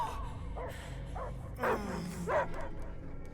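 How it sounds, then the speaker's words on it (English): Dogs bark and yip in a sci-fi action video game, a few short barks at a medium distance over a low rumbling background, with two louder barks in the second half. "I hear only barking."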